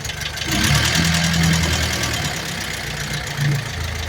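A 1949 Willys pickup engine revs up and down, with a fast light ticking of lifters needing adjustment tapping through the mechanical drone, close by.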